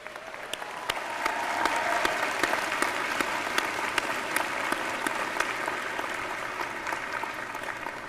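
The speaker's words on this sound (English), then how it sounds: "join in me in offering them a round of appreciation and applause" A university convocation audience at a Simon Fraser University spring ceremony breaks into sustained applause, a large hall full of rapid overlapping claps swelling and holding steady, with crisp individual claps standing out near the front.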